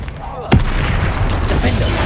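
Confringo and Bombarda spell blasts from Hogwarts Legacy: a sharp explosive crack near the start gives way to a sustained rumbling roar of combat, with a voice shouting over the noise.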